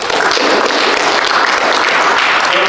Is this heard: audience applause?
yes